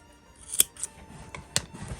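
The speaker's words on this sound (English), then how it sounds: "you can cut a little bit here if you like to" Scissors snip fabric during sewing, with two sharp, close cuts about a second apart and soft handling noises between them.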